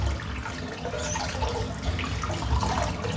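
Water runs steadily from a tap into a bathroom sink during a wet shave, a continuous close splashing rush with no talk.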